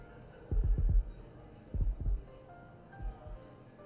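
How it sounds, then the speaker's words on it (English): Heartbeats come through headphones as soft, low thumping double beats, three pairs spaced about a second apart, fading with each pair over a faint steady hum. "Now we're hearing our heartbeats."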